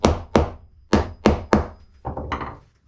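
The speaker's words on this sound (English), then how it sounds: "we'll hammer those home" Five sharp hammer blows drive upholstery tacks into a wooden dining chair in a steady rhythm, followed by a few lighter, quicker taps, close and loud with no talking.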